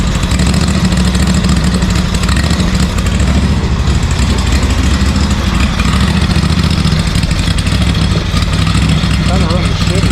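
A replacement engine on a ZT200 zero-turn lawn mower runs rough, a steady loud mechanical drone that fills the whole stretch with slight unevenness, while a person talks over it.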